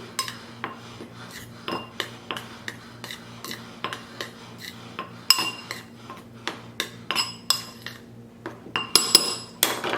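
Flour, baking soda and salt being mixed in a bowl for peanut butter cup cookies, with a utensil clinking and tapping against the bowl in quick, irregular strokes, close and fairly loud.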